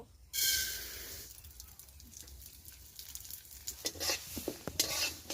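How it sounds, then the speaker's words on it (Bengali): Lentils hit hot white oil in a pan with a sudden loud sizzle, then the hiss settles as a spoon stirs and scrapes with repeated sharp clatters. "তার সঙ্গে অল্প সাদা তেল দিয়ে দেব তাড়াতাড়ি দাও ডাল দিয়ে দাও এখন ডালটা ভেজে নেব"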